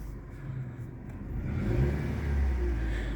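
A 2013 Daewoo Gentra with a 1.5 engine running on fourth-generation LPG, revving up from a low hum to a fuller, louder drone that then holds steady nearby.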